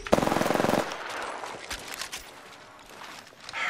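Automatic gunfire in the video game Apex Legends: a fast, loud burst of shots up front, then quieter scattered impacts and movement sounds.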